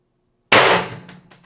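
IntruBuster Gen 2 CO2 air gun with a 4x12g CO2 stock fires a single shot: one sudden sharp crack out of silence with a short ringing decay and a couple of faint echoes.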